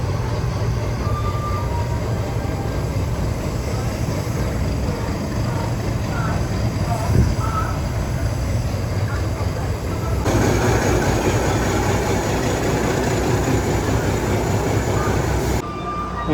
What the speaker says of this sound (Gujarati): દોસ્તો, આ ટ્રેન કેટલી લાંબી લાગે છે જો.